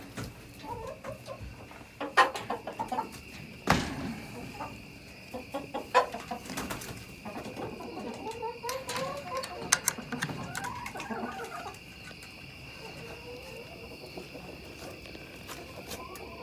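Chickens settling in for the night give soft, scattered clucks and murmurs close by, over a steady chorus of crickets, with occasional rustles and thumps and a person speaking briefly.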